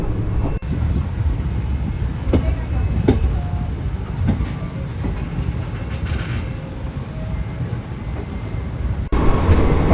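Jammu Tawi–Jodhpur express train rolling through a residential area near Bikaner in Rajasthan, heard from aboard as a steady near rumble with sharp rhythmic clicks of wheels over rail joints, ending in a brief louder burst.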